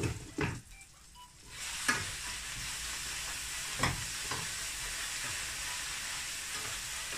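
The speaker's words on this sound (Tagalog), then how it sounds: "Okay na yung ini-stir fry kong gulay para sa pancit ko." Vegetables for pancit bihon stir-fry in a hot pan, a steady close sizzle with several sharp scraping stirs and clanks of the spatula at intervals, no talking.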